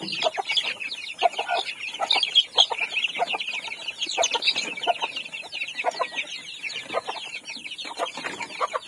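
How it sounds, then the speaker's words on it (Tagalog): Backyard chickens with young chicks cluck and chirp continuously, with dense overlapping calls from several birds nearby. "Update muna tayo sa aming mga chicken. May mga sisiyo pa tayo dito."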